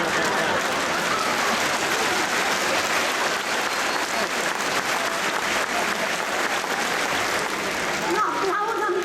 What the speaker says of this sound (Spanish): no aplaudan porque se pasan los segundos